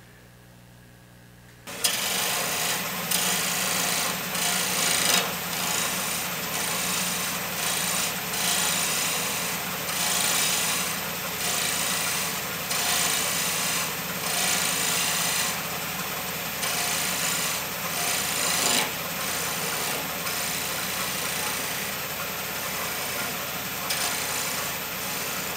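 Wood lathe turning a madrone hollow form as the tool cuts a small chamfer, a steady droning hum with rough scraping texture running continuously and fairly loud after a brief quiet start.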